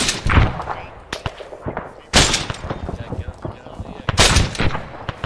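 Machine-gun bursts in ARMA 3: three loud, close bursts of rapid shots spaced about two seconds apart, with a voice talking between and over them.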